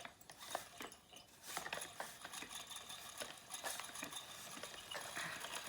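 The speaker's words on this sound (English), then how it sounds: "I think the sound is coming from the flyer not being secured." Spinning wheel with a loose flyer giving off rapid, faint clicking and rattling ticks in an uneven rhythm as it turns, quiet and close, with no talking.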